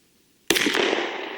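Single 10mm Buffalo Bore Monocore round fired from a stock Glock with its standard factory barrel: one sharp, loud, close gunshot with a ringing decay after a quiet start.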